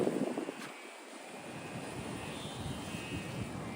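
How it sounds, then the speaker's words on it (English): Continuous buzzing propeller drone from a motorized kite's small motor, steady and fairly close, after a brief rush of wind at the start. "It could be just propellers making noise"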